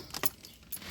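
Keys jangle in two quick metallic bursts as they slide into the ignition of a 2013 Ford F150 with a dead battery, close and alone.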